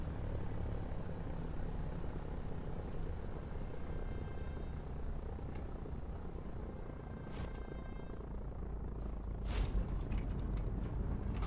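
A Spitfire's piston engine drones steadily while the aircraft comes in to land in a flight sim video game, a constant rumbling propeller roar with a few brief higher whines near the end, no talk.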